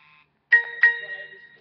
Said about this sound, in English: Got a text message.